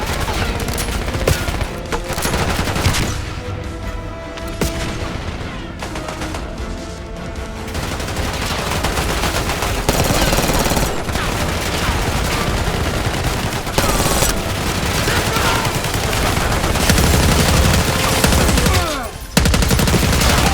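Gunfire from the Black Ops 6 campaign mission "Most Wanted" rattles almost without pause, with dense automatic bursts and explosions over loud game action.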